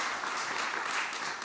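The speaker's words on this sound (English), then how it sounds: "Round of applause, please." A conference keynote audience claps in a steady, dense wash of applause, brief and even throughout, with no voices over it.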